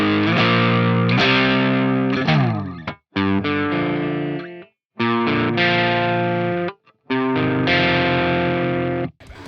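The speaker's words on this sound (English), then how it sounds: "So first off, we're going to look at what's called Volcano Clean." Guitar played through the Amped Volcano amp simulator's SLO-100 clean channel, loud ringing chords strummed in phrases separated by short silences, with chorus-like shimmer and no talking.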